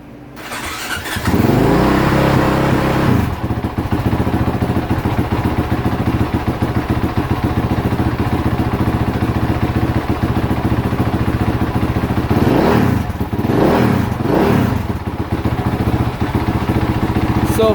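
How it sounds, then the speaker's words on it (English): A rebuilt 2017+ Honda CRF450R dirt bike fires up for the first time after a top-end rebuild. After a starter crank, it settles into a loud, steady, close idle with a few blips of revving near the end. "Alright, first fire up. Let's see how she does."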